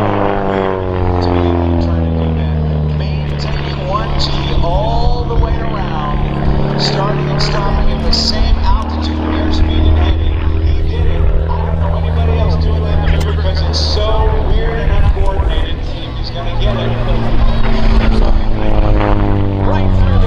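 A Pitts aerobatic biplane flies inverted through a barrel roll at the 2023 MCAS Beaufort air show. Its propeller engine drones steadily and loudly throughout, beneath continuous commentary.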